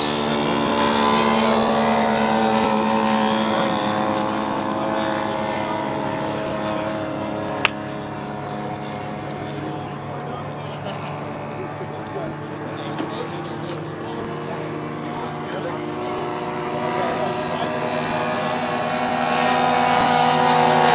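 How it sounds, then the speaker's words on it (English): A scratch-built radio-controlled scale model of a Farman Mystique aircraft drones steadily overhead at a flying event, its engine a continuous buzzing tone that swells slightly toward the end, heard alone for about twenty seconds. "scratch-built aircraft from a photo. Farman Mystique on base"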